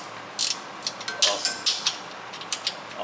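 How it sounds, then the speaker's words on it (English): Quick, light clicking from a swivel-head ratcheting wrench working in a tight spot during steering gear removal on a 2013 Chevrolet Malibu, short uneven bursts of ticks, close and fairly quiet. "I'm actually using this ratcheting wrenches"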